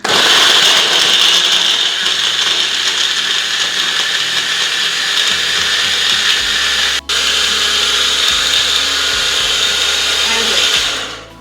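A mixer grinder blends beetroot or papaya juice with a loud, continuous motor whir. It dips briefly once, then spins down at the end.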